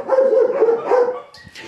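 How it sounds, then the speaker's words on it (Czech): A black Labrador mix dog at a dog shelter gives a close, loud burst of barks that blur into a short run of yelps, then trails off into quieter whimpering noises. "První pejsek vypadá jako černý labrador."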